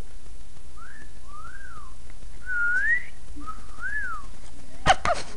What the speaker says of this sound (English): I didn't know what to say, so I just whistled at him.